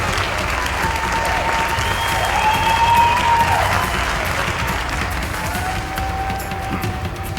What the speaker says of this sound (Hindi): एक बार जोरदार तालियों के साथ उसका स्वागत करें।